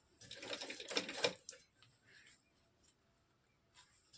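A sewing machine stitches a katori blouse in a short run of rapid mechanical clatter lasting about a second, then stops, leaving quiet room tone with faint scattered ticks.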